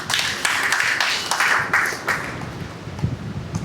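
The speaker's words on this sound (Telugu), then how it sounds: "ఒక్కసారి చప్పట్లు." Audience applause at a Telugu public speech honouring Ambedkar, a burst of scattered hand claps from a moderate-sized crowd that thins out over a few seconds.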